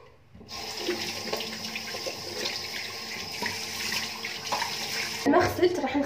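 Warm water runs steadily from a tap while someone washes their face at a sink, a close, continuous splashing hiss with brief bursts of heavier splashing near the end.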